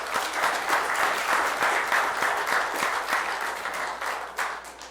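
Audience applause fills a county board of supervisors meeting, a steady, dense wash of many hands clapping at close range for the full stretch without pause.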